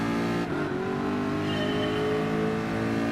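Race cars in Gran Turismo Sport at the start of a race, engines droning and revving steadily together, loud and continuous with a rising pitch.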